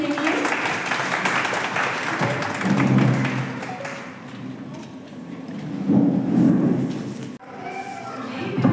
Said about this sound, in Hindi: जोरदार तालियां मुझे इनके लिए।